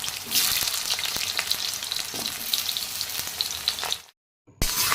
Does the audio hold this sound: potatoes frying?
yes